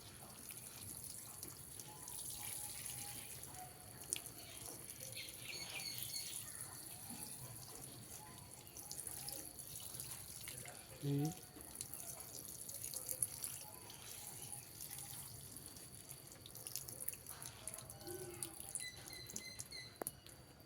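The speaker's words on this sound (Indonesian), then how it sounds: "Kita siram kurang lebih 3 liter air." About three liters of water are poured onto a potted grape vine, a quiet soft trickle and patter of water soaking into soil that continues faintly and unevenly for a long stretch.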